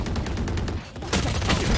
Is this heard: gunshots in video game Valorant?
yes